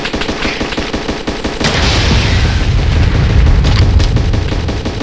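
A video game firefight has rapid machine-gun fire rattling in a steady rhythm. Then rocket blasts from RPGs and heavier booming explosions take over in a loud, dense barrage.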